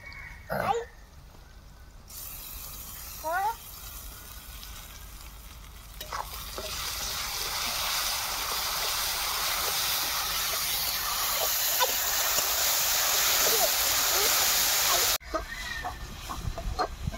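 Ginger, garlic and dried red chilli paste fry with spices for a fish curry, a hiss that swells into a sustained loud sizzle with steam, broken by a few spoon clinks and a brief sharp squeak early on.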